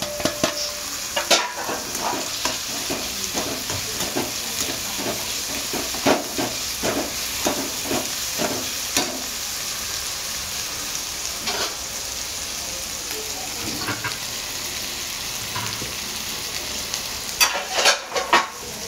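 Onion, tomato and spring onion for Mumbai-style egg bhurji fry in a pan with a steady sizzle, while a spatula repeatedly scrapes and clacks against the metal in uneven bursts.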